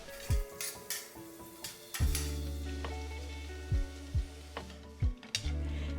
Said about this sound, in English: Saute them lightly and then add sliced onions, sauteing until the onions become translucent.